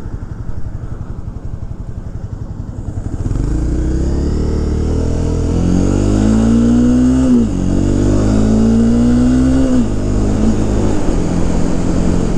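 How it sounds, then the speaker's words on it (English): Honda CBR 300R motorcycle engine with a stock exhaust, idling low and steady, then revved in two rising-and-falling sweeps around 7 and 10 seconds, fairly quiet and close with no talk. "Even with that stock exhaust, it sounds decent."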